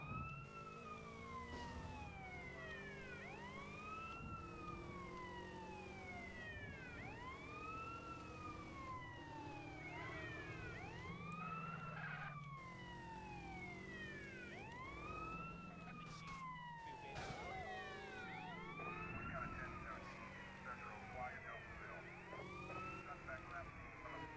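Police sirens wail in GTA San Andreas, with several overlapping rising and falling sweeps that continue throughout amid game noise and traffic. Someone talks intermittently over the sirens.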